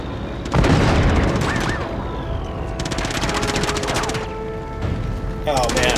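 A tank in Uncharted 2: Among Thieves fires a heavy booming shot, followed by stretches of rattling automatic gunfire and mechanical clatter, loud and close throughout.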